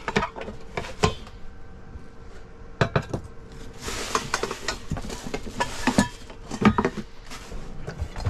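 Pots, dishes and cutlery clink and clatter in a kitchen while a kettle is cleaned ahead of cooking vegetables, with sharp irregular knocks and scrapes and a busier run of rattling in the middle.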